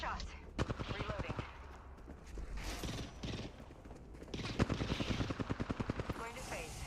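Video game gunfire in Apex Legends rattles in rapid automatic bursts, with several long strings of shots, fairly close, and a player's voice talking over parts of it.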